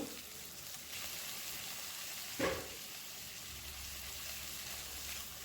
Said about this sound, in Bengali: আলু আর পেঁয়াজ একসাথে নাড়াচাড়া করব যাতে আলুর সাথে পেঁয়াজগুলো একটু ভাজা ভাজা হয়ে যায়।